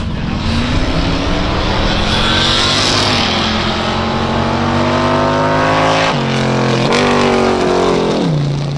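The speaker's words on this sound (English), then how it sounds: "Doing a solo run in street rod class." A loud street rod engine roars steadily at close range during a solo drag racing run, pitch climbing through gear shifts as the car accelerates hard down the strip.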